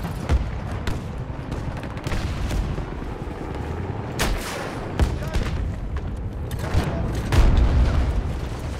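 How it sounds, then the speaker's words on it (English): A shotgun fired in Battlefield 2042, several heavy booming blasts spaced a second or more apart over a constant rumble of battlefield noise. "Let me try this shotgun out."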